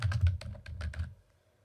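Rapid keystrokes on a computer keyboard while entering a name, a quick burst of about eight close, crisp clicks that stops abruptly, leaving near silence.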